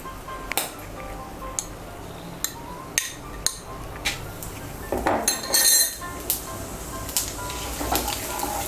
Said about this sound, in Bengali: এর মধ্যে আমি তেজপাতা আর গোটা জিরে ফোড়ন দেব